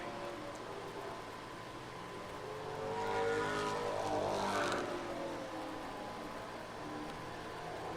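A race car on a qualifying lap at Thunder Road Speedbowl during the Vermont Milk Bowl, its engine swelling as it passes nearer around the middle, then fading back into steady track noise with no talk.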